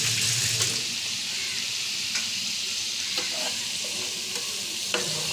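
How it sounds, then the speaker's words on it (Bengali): Spice paste for bata fish curry (jhal) bubbles and sizzles steadily in a pan, a dense continuous frying hiss with occasional soft stirring scrapes, close and fairly loud, with no voices. "দেখুন কীভাবে হচ্ছে সুন্দর করে, মশলাটা কীভাবে ফুটছে ভালো করে"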